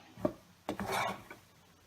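Honeycomb sugar mixture being stirred in a pan, a few scraping and rubbing strokes of the utensil, close and fairly quiet, with short gaps between them.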